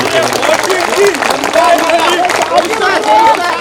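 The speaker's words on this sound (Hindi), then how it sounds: "एक बार 4 टीवी के लिए, पूरी टीम के लिए जोरदार तालियां बजाइए" Audience at a kul hind poetry mushaira in Nizamabad applauds in a dense, sustained wash of clapping mixed with crowd murmur and voices.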